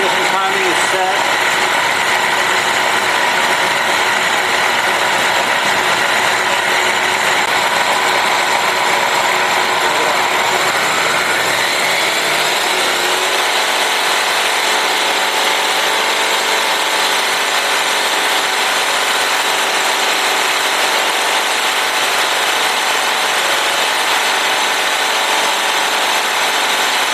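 A 331 Ford stroker engine runs loud and close, revving briefly before settling into a steady, droning idle.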